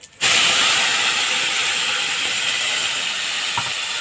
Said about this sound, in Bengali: মশলাটাকে কষিয়ে নেব। একসঙ্গে মশলাটা কষিয়ে দেব।